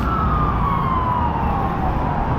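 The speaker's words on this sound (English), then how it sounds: "They got the sirens on" An emergency vehicle siren on a city street at night in St. Louis, a loud, steady wail that slowly falls in pitch over a constant roar of traffic and street noise.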